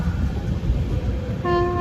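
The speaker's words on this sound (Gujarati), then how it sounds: "આપણી ટ્રેન પહોંચી ગઈ છે સુરેન્દ્રનગર જંકશન" Low rumbling rail noise of the Veraval Pune Express rolling into Surendranagar Junction, ending in a steady tonal horn or brake whine near the end.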